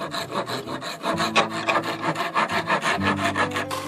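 A hand rasp shapes the corners of a wooden puukko knife handle in steady, rapid back-and-forth strokes, close and moderately loud, with no talk.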